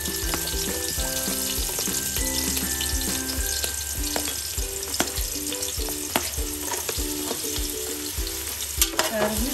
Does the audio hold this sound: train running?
no